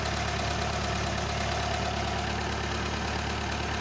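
A Ferguson TE20 tractor engine idles close by with a steady, even rumble that holds constant throughout with no voices.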